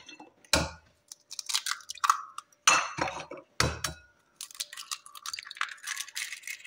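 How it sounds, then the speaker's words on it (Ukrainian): Eggs cracked one by one into a cast-iron pot for varenyky batter: several sharp close taps and knocks with shell crunches and clinks, separated by short pauses, no talking. "я беру яйця по одному вибиваю"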